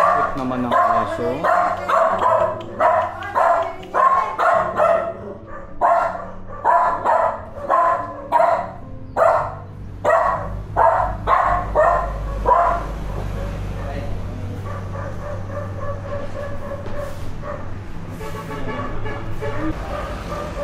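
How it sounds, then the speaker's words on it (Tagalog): A dog barks repeatedly in steady, rapid bursts, loud and close, for about twelve seconds before settling into quieter background noise, at an old ancestral house in Baclayon, Bohol. "Ito naman ang aso."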